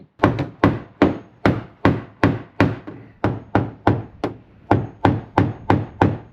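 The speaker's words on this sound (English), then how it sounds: "You basically just put it right on that high point and you just start tapping away like this." Light hammer taps flatten a high point on a Ford F150's metal panel during a custom build: about twenty sharp, evenly paced knocks, close and fairly loud, with no talking.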